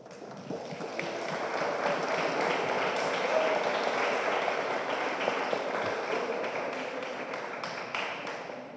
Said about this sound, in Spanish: Pido un aplauso para ella, por favor.